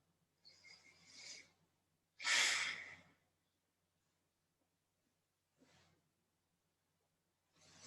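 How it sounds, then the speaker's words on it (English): Slow breaths drawn in and let out through the nose during a Kriya Yoga pranayama class: a few soft, close airy puffs, each a second or so long, with quiet gaps between them. "Just breathe normally for a little minute. A little minute, what a word. Through the nose and out."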